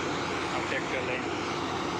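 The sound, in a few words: tractor engine running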